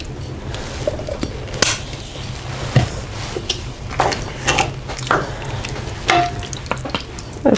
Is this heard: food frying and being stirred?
yes